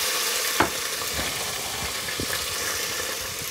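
Local red wine splashed into a hot frying pan over a flame, giving a broad, steady sizzle with a sharp hiss at the moment it hits, then continuing crackling frying noise close by.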